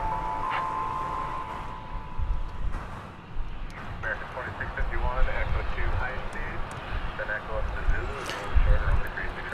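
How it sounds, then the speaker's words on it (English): An airliner at DFW Airport, Flight 192 to London Heathrow, gives a steady low engine roar under near-continuous talking. "It is Flight 192 going to London Heathrow."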